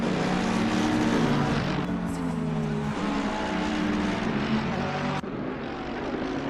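GT3 race cars, including a McLaren, in Assetto Corsa Competizione on PS4. Engines drone loudly and steadily, with their pitch shifting through gear changes and a sharp break near the end.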